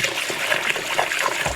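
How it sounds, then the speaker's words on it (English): Water swishes and trickles as rice and pulses are rinsed for vegan dosa, giving a close, continuous splashing, rushing sound with no voices. "rinse the rice and pulses"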